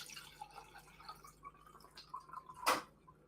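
Cold water dripping slowly in a dripster cold brew coffee maker, soft irregular drops over a quiet background with one louder splash near the end.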